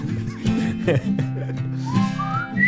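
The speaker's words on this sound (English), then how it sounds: "Oh, the whistles." Someone whistles a wavering, sliding tune over a low musical backing, the notes rising and bending through the short passage.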